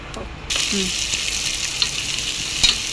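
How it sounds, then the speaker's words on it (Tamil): Loud, steady sizzling of onions and green chillies frying in a pan, with a few clinks of stirring. "வெங்காயம் நல்லா பொன்னீர் ஆகிற வரைக்கும் கிண்டி விட்டுக்கலாம்."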